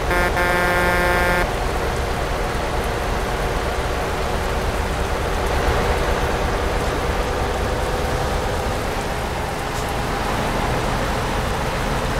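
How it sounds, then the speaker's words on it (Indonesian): Steady rain drums on a container truck hauling horse feed as it drives along a road, a loud, even hiss with engine rumble beneath, opening with a short buzzing tone. "Hujan, guys."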